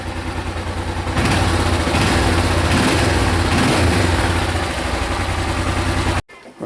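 A Suzuki VX 800 motorcycle engine idles steadily and loudly during carburettor synchronization, a constant close mechanical drone that runs unbroken for several seconds before cutting off abruptly near the end.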